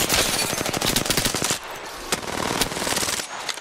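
Rapid automatic gunfire from the battle royale shooter Apex Legends, a dense burst of shots for about a second and a half, then a few separate loud cracks, with no talking.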